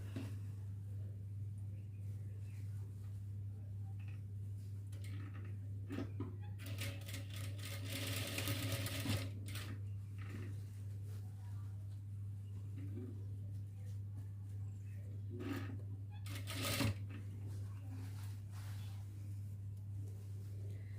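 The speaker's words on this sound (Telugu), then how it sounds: "కరెక్ట్గా ఇక్కడ పెట్టుకుని స్టార్ట్ చేసి రౌండ్ మొత్తం కుట్టేయాలి" A sewing machine stitches a double lining frock, its fast mechanical whirring coming in two bursts, a longer one midway and a short one later, over a steady low hum, all close and fairly quiet.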